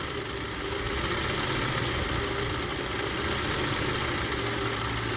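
A Honda CR-V engine idles roughly with a misfire, only three cylinders working, giving a steady, close, fairly loud mechanical drone with uneven shaking vibration throughout and no voices.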